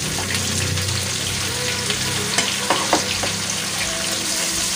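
Chopped eggplant stir-frying in a hot pan, a steady close sizzle broken by a few utensil scrapes and clicks as it is stirred, with no talk.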